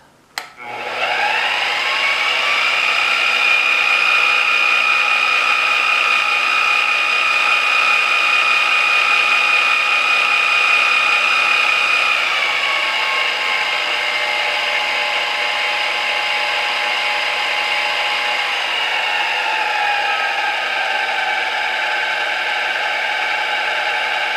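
A King Canada VS20-2 mill runs steadily with a high, whining motor and spindle tone that shifts pitch partway through as the speed changes, loud and close, with no talking over it.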